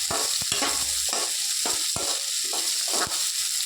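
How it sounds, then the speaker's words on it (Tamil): Onions for onion chutney sauté in a pan, hissing steadily while a spatula scrapes and stirs in regular strokes, close and loud with no talking. "இதை நல்லா லைட் வதக்கணும்"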